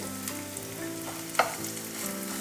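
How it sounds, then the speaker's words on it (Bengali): Onion sizzles steadily in a pan, with a soft stir or scrape standing out once, and no voices over it. "ভালো করে ভেজে নিতে হবে, একটু লাল লাল করে, এই নরম হওয়া পর্যন্ত"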